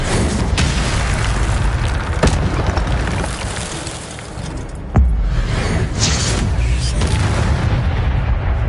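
Loud blasts from a fire spell in a video game, with sharp booming bursts standing out over a dense, roaring game soundscape.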